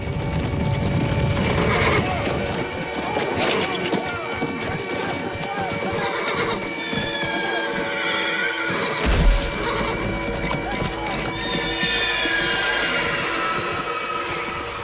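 Horses neighing and whinnying in a World War I setting, several untrained and not saddle broken, with hooves clip-clopping throughout; calls rise and fall over a dense, busy background, and voices can be heard in the mix.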